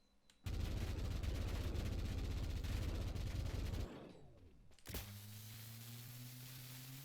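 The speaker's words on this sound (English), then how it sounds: "And by that, I mean my overpowered nail gun." An overpowered nail gun in a video game fires a sustained, rapid mechanical barrage for several seconds, then winds down with a falling whine before a sharp impact and a lingering electric hum.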